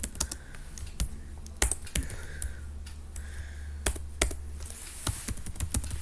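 Quick, light clatter of fingers typing on a computer keyboard while entering a query into the Windows search box, with steady close keystrokes and a few sharper taps, and no talking.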